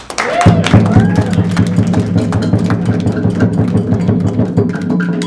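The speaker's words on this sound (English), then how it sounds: "give yourselves a round of applause" A college leadership-week drum workshop group applauding themselves: a burst of clapping mixed with sustained drum and percussion hits, loud and close, settling into continuous rhythmic tapping and thuds.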